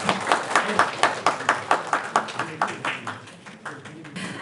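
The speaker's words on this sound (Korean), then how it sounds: "여러분, 유혜정 센터장님을 큰 박수로 맞이해 주시기 바랍니다." An audience at a disability integrated-care seminar in Gyeonggi-do claps to welcome a presenter, with a steady run of even, moderately loud claps at a regular pace that soften and scatter toward the end.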